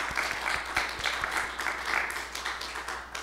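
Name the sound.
congregation applause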